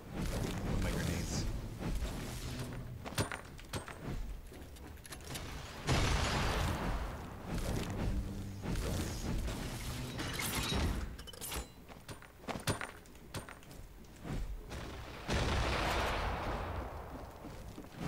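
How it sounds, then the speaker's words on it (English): Grenade blasts in Fortnite on Nintendo Switch, several heavy booms spread across the stretch amid gunfire and busy game noise, with someone talking over parts of it. "I'm gonna see if I could, like, disrupt them with my grenades"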